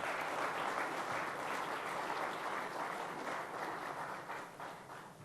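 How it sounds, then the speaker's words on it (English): Steady applause from a large conference audience at the India Today Conclave, filling the hall evenly for about five seconds and easing slightly toward the end. "Please applaud for that."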